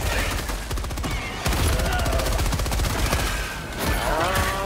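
Sustained automatic gunfire in Helldivers 2 on a difficulty 6 mission, a loud continuous stream of rapid shots with brief breaks, some faint voice underneath.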